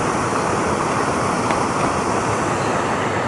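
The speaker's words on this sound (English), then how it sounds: "We just crossed this river." River water rushes steadily and loudly during a cycling ride, a dense continuous roar with no speech and no change in level.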